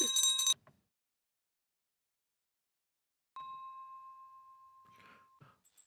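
A single bright electronic subscribe-bell ding rings out with a long, clear sustain, preceded by a short burst of sound and followed by a few faint rustles.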